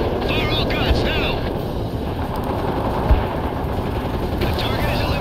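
A Super Cobra attack helicopter in the World in Conflict video game opens up with all its guns: a dense, continuous roar of rapid gunfire and rotor noise with sharp bursts near the one- and three-second marks, under faint radio-style voices.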